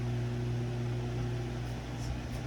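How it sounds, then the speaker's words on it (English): A microwave oven hums steadily while heating a glass dish of Amish friendship bread starter, a constant close drone with faint fan noise and no talking. "I'll actually do 25 seconds on the microwave"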